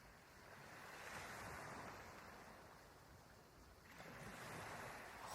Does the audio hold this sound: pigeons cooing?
no